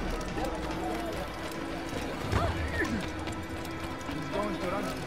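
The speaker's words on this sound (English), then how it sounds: "Now we gotta get down, get our horse," Horse galloping in the Assassin's Creed Origins video game, a steady clip-clop of hooves running along a road beneath continuous game music and ambience, fairly loud throughout.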